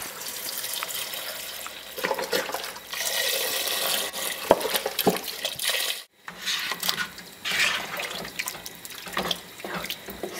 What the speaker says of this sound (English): Now I'm going to add a 48-ounce container of chicken broth.